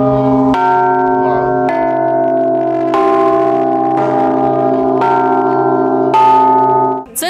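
A large struck bilo, sounding like a 3-ton bell, and three smaller bells ring in a steady sequence of resonant strikes, each blow a rich, sustained tone overlapping the last, loud and close.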